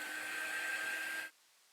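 A hair dryer blows steadily at close range over a handmade strawberry craft piece, a dense whooshing roar that cuts off abruptly near the end, leaving near silence.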